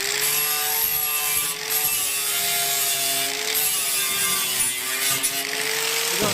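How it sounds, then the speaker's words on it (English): Grinder working a metal lip on a steel barrel stove built from a 55-gallon drum, a continuous high whining grind with steady harsh abrasion that runs alone for several seconds. "Let's see if I can grind this out a little bit."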